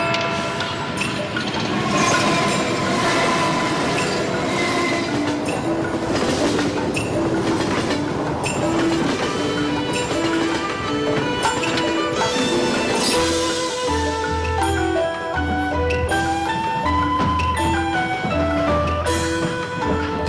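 A train rolls along railway tracks with loud, continuous clattering wheels, metallic rattling and rhythmic clacks, heard from on board and close throughout.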